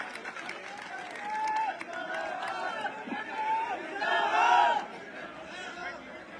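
A village crowd at a rural political program claps and cheers to welcome the panchayat samiti head, a swelling mix of applause, shouts and chatter at moderate distance that peaks near the end.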